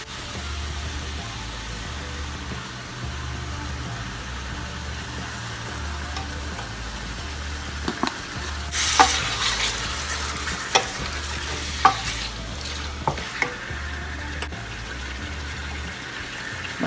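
Red palm oil sizzles softly in a pan as pumpkin is stir-fried, a low steady frying hiss with scattered scrapes and clacks of a spoon against the pan, near and free of talk.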